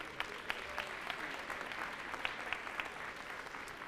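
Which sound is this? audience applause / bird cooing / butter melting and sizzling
audience applause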